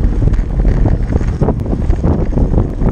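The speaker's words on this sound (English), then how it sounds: "And it's windy." Steady wind buffeting a microphone during a road cycling group ride, a loud continuous low rumble with gusty fluctuations throughout.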